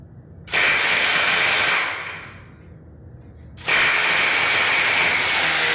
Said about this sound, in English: just fill the little hole that the drill's making